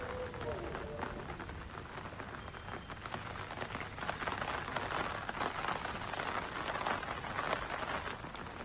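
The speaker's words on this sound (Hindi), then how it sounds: "जम्मू कश्मीर के अखनूर में मूसलाधार बारिश का कहर देखने को मिला है" Torrential monsoon rain pours over Akhnoor in Jammu and Kashmir, a dense steady roar of heavy downpour with spattering on surfaces throughout, loud and continuous with no pause.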